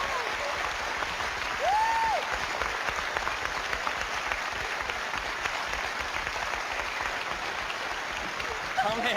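Sustained audience applause at a live paranormal show, dense even clapping throughout, with a voice briefly heard over it near the start.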